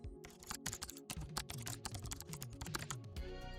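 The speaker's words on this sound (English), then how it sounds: "Let me quickly type a basic C++ program that prints subscribe now." Close computer-keyboard typing as a C++ program is entered, a rapid, irregular patter of crisp key clicks and clacks with brief pauses, fairly quiet and with no voice.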